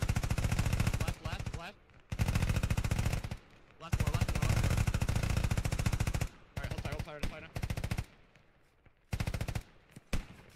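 Automatic weapon fire in the military shooter game Squad, long loud bursts of rapid machine-gun shots broken by short pauses, up close and with no talk over it.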